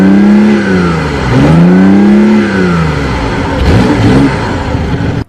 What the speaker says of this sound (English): the sound of the gas motor is pretty aggressive for a 3-cylinder